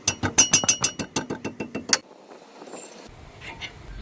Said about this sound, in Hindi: इसमें मैं यूज करने वाला हूँ ये 12 नंबर का रिंच।